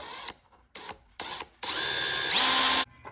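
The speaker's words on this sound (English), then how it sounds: "I'm gonna use a step drill to drill these holes." A step drill bores holes in a vintage motorcycle fender, with several short bursts of whirring followed by one longer sustained run that rises in pitch before stopping.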